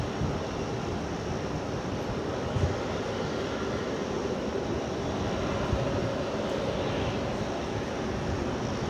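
A Jetstar Airbus A321neo airliner arriving at Brisbane Airport gives a steady, broad engine roar that holds at an even level throughout, heard alone without talk.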